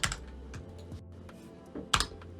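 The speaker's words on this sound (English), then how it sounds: "and we're going to type in our name" Keys clatter on a computer keyboard while a name is entered in a video editing template, a steady run of fairly loud clicks with a sharper burst of strokes near the end and no talking.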